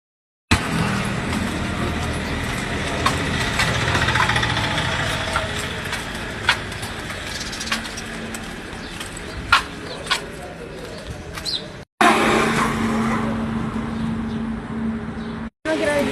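A bus engine idles at the stop with a low, steady hum while people talk nearby, with a few sharp knocks and brief dropouts breaking the sound.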